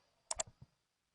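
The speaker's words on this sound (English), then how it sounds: "So click that button." A computer mouse button clicks on a Copy to Clipboard button in a quiet room: a crisp, close double click, then a couple of softer ticks as it releases.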